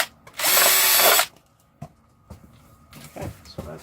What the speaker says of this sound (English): Just find it's easier doing it with the drill.